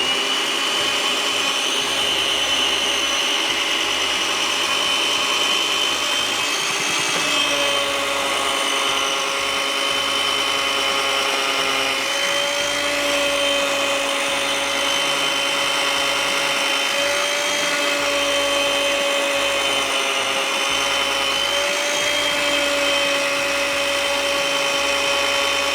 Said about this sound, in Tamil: நான் இங்கே அந்த பிரீத்தி மிக்ஸியோட அட்டாச்மெண்ட் யூஸ் பண்ணுறேன்